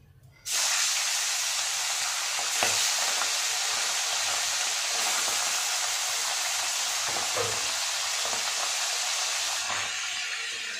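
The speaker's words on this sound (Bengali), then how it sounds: "এবার আমি মাছগুলোকে ছেড়ে দেবো" Pomfret fish dropped into smoking-hot oil, bursting into a loud, steady broadband sizzle that holds for about ten seconds with occasional pops and crackles, no voices over it.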